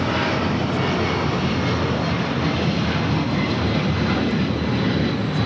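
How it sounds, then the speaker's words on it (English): A Delta Air Lines Boeing 757-200 takes off from Los Angeles bound for Boston, its jet engines giving a loud, steady broadband roar that holds without a break and stands alone. "This is Delta Airlines 677 taking off to Boston on a 757-200"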